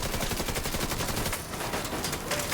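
Rapid automatic gunfire from The Division 2 on Roosevelt Island, a dense, loud, continuous stream of shots with steady rhythm that barely pauses mid-burst before resuming.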